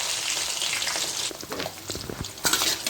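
Garlic and green chillies sizzle and crackle in hot oil for a home-style Tamil fish curry, a close, busy frying hiss with occasional stirring pops and no talk.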